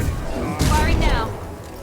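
A burst of Mass Effect 2 weapon fire, a single sharp loud report with a brief ringing, warbling tail, following a low rumble of ambient game noise.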